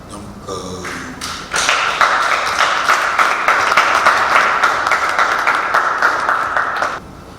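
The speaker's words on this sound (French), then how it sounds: "La salle a alors éclaté en applaudissements pour féliciter le révérend pour cette réussite exceptionnelle." A church hall bursts into applause for a reverend, opening with a few claps and then a dense, loud wave of many hands clapping steadily for several seconds before stopping abruptly.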